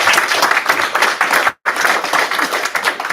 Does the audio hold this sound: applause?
yes